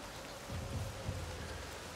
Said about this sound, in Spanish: Qué guapa la lluvia.